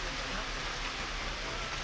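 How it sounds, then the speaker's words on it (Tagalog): Steady rain pours down on a grey morning, a dense even hiss with no breaks, close and moderately loud throughout. "Abangan natin, umuulan."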